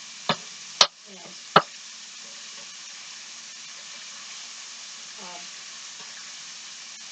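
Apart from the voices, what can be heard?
burgers frying in bacon grease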